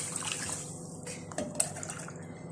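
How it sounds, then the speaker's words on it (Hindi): Six cups of water poured into a cooking pot for rasgulla, a soft continuous splashing trickle with a few drip-like spatters, fairly close and moderately quiet, with no talk. "ये मैं 6 कप नाप के इसमें पानी के डालूंगी इसमें।"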